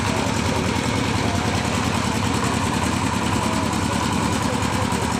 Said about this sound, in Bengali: ট্রলার ছেড়ে দিব।